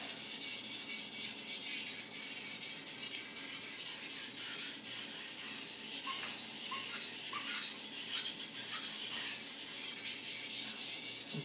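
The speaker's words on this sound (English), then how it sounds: "I'm going to run this knife over the stone a little bit" A Takeda gyuto knife is rubbed over an Imanishi 1K whetstone, producing a steady, close, gritty scraping hiss in continuous rhythmic strokes, with no talk.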